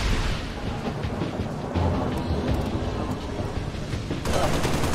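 Turret gunfire in Halo Reach runs continuously as dense, rumbling bursts throughout, with a fresh loud surge near the end.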